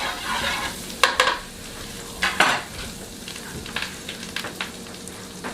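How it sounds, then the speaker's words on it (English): Mushrooms saute in garlic butter in a pan for a burger, with a soft continuous sizzle broken by several sharp utensil scrapes and clinks against the pan. "we want these mushrooms just to saute. We don't want them necessarily to fry up."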